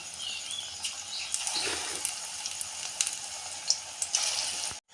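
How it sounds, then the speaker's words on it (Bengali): Drumstick flower pakoras coated in gram flour and rice flour batter fry in hot oil, giving a steady close sizzle with scattered pops and crackles and no talking. "পকোড়াগুলো আমার লাল লাল করে ভাজা হয়ে গেছে"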